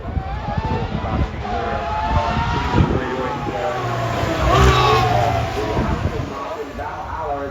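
A Singer reimagined Porsche 911 accelerates up the hill at the Goodwood Festival of Speed, its engine note rising and swelling loudly as it passes, under a commentator's continuous talk.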